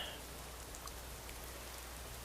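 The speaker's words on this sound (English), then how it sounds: "That rain." Faint, even rainfall patters steadily in Skyrim, a soft continuous hiss with scattered tiny drop ticks and no voices.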